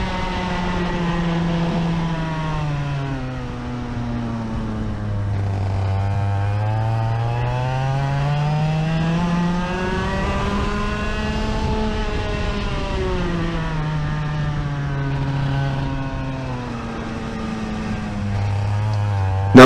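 A 30-horsepower racing kart engine revs up and down on a track, its loud buzzing pitch rising and falling in repeated sweeps as the throttle opens and closes, continuous and close throughout.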